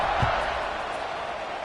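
A football stadium crowd at an Iowa State game roars in a steady, broad wash of cheering and noise, distant and continuous, with faint commentary mixed beneath.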